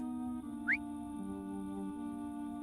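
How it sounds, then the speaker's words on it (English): In the video game The Good People, a single brief rising whistle sounds over a steady tonal music bed, short and fairly clear above the quiet background. "searching for the source of the whistle I just heard"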